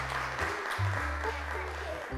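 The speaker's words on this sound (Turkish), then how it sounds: "Kerem'i alkışlarla yerine alıyoruz." Studio audience applause on a Turkish children's television show, a brief, steady wash of clapping with a low hum underneath.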